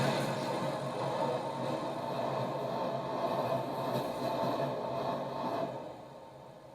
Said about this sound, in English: The train now approaching platform 1 is not for public use.